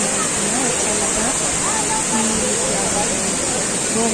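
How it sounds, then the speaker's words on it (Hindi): A waterfall plunging from a great height in a forest roars loud and close, a steady, unbroken rush of white noise. "कि बहुत ऊंचाई से झरना पड़ रहा है।"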